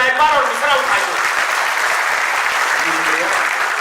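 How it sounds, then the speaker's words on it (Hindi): Audience applause at an Urdu ghazal and shayari poetry gathering in Kolkata, a steady clapping wash, with a voice speaking over the start and again near the end. "जोरदार तालियां"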